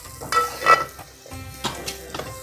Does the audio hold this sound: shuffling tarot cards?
no